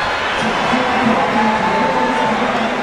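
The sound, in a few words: crowd applause in arena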